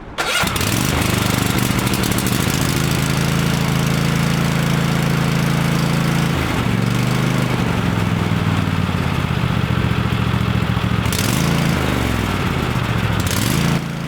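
A Kohler 22 HP V-twin engine, just repaired, cranks and catches, then runs loud and steady nearby with two brief dips in speed before recovering, with no voices over it.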